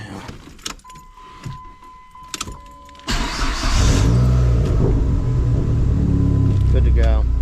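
A Dodge Neon SRT-4 with quiet shuffling and clicks at first, then the engine starts and runs loud and close, with a revving drone that rises and falls.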